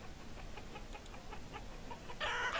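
Chickens clucking in the village-building game Banished, a run of short, faint calls spaced through the clip before a louder burst of noisy fowl sound swells near the end, with no voices.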